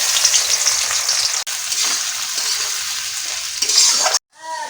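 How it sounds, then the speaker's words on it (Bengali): Sliced onions sizzle steadily in hot oil in a pan, a loud, continuous frying hiss close by that cuts off abruptly near the end. "তেলে দিয়ে দিচ্ছি পেঁয়াজ"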